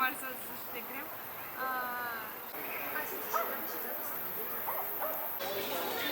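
Small dogs yip and bark intermittently in an outdoor dog park in Park Druzhba, Veliko Tarnovo, Bulgaria, at moderate distance amid crowd chatter and background talk.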